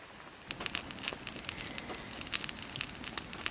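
A campfire burns outdoors at a campsite in cold rain, giving a steady bed of soft crackles and patter with frequent sharp pops and snaps throughout, close and fairly quiet.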